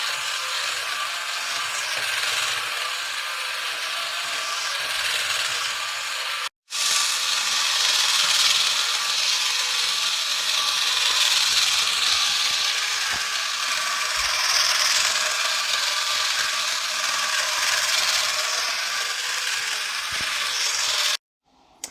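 A loud, continuous mechanical whirring and ratcheting clatter of a motorized Transformers G1 Omega Supreme toy robot walking, steady for long stretches with two brief cutoffs, no talking.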